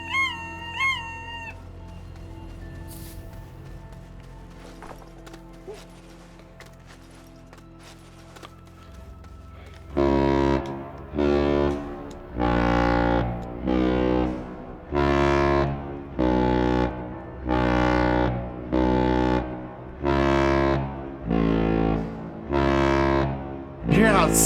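In the space game Astroneer, a large starship horn honks over and over, with deep brassy blasts repeating in a steady rhythm after a stretch of quieter game sounds. Someone talks during the early part.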